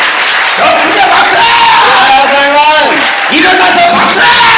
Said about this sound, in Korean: 크게 박수